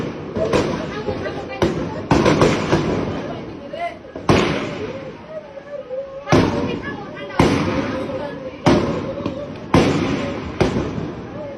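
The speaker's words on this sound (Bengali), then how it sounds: "আর গুলি লাগছে" Gunshots ring out during a violent street crackdown in Bangladesh: around ten sharp, loud bangs at irregular intervals, each with a short decaying tail, while people shout and talk between the shots.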